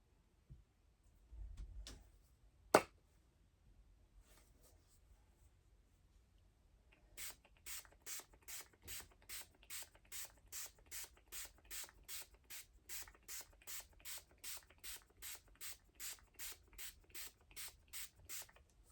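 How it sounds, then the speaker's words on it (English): Cleaner is sprayed onto a bowling ball cleaning pad in a long run of about two dozen quick, evenly spaced trigger-spray bursts, preceded by a brief handling thump and click, close and with no talk. "Spray the pad."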